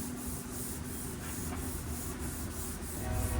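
Steady, close hand sanding of car bodywork with sandpaper, a continuous scratchy hiss with a faint rhythmic pulse, and no talking.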